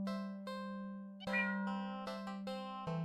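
Synthesized cat meows from a cat video game, several short tonal calls in sequence over a steady droning tone, fairly close and clear with no talking.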